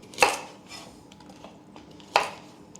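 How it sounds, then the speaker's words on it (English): Knife chopping carrots and onions on a board in a home kitchen, two sharp isolated chops about two seconds apart with quiet kitchen rustle between them. "I'm going to peel the carrots, chop it finely"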